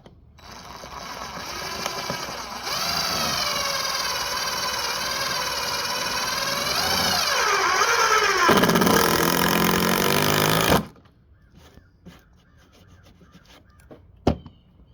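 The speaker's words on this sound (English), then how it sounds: "self-drilling deck screw, no pilot hole, going through Trex decking, old Trex decking, into 2 by 4" A power driver sends a CAMO #10 x 4 in. self-drilling star-drive deck screw through old Trex decking into a 2x4 without a pilot hole, making a loud, close, sustained whine that rises and strains before cutting off abruptly, followed by faint clicks.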